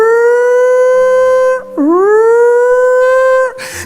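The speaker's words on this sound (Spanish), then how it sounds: "La sirena de la yarda sonando." A prison yard siren wails loud and close, a sustained tone that dips sharply and then climbs back up before holding steady again, with a brief noisy burst at the end.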